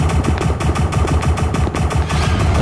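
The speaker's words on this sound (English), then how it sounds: "Where are these gunshots coming from?" Rapid bursts of video game gunfire crackle continuously over a dense, loud mix of engine rumble and action sounds, with no pauses, in the game SCP: Three Peanuts.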